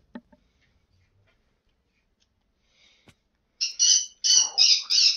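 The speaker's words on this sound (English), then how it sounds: "the bird is being dumb" A pet bird squawks loudly in several harsh, high bursts near the end, following a few faint ticks and clicks in an otherwise quiet room.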